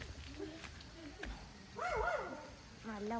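A dog near a house barks a few times in short, uneven bursts, the loudest near the middle and another at the end, mixed with nearby voices.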